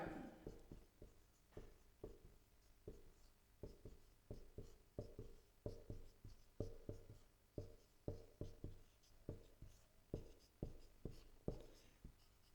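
Pen or chalk strokes scratch out writing during a school science lesson on chemical reactions, a quiet, rhythmic series of short scrapes and taps repeating steadily, with no talking.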